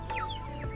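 A chicken at a weekly outdoor market in Portugal gives a couple of short clucks and chirps, close by over a low hum of background noise.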